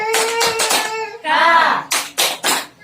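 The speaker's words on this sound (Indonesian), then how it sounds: "Ayo buat lebih biar semangat kita tepuk PKH dulu ya." A group of mothers performs a rhythmic PKH clap chant in a nutrition session for pregnant women, voices chanting in unison with sharp bursts of clapping in short repeated groups, close and loud.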